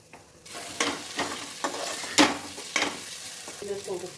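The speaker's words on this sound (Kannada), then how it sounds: "ಆಲೂಗಡ್ಡೆ ಹಾಕ್ತಿದ್ದೀನಿ ಮೂರು ಆಲೂಗಡ್ಡೆನ ಕಟ್ ಮಾಡ್ಕೊಂಡಿದ್ನಲ್ಲ ಅದನ್ನು ಇದನ್ನ ಹಾಕ್ತಿದ್ದೀನಿ" Cut potatoes tip into a pot of tomato and get stirred, giving a soft sizzle and a few close scraping, clattering strokes of the spoon against the pot, with no talk.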